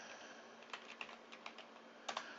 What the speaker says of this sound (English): I'm typing that link in right now